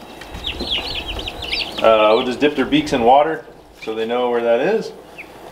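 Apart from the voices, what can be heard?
turkey poults chirping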